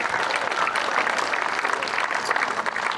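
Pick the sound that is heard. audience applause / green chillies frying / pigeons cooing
audience applause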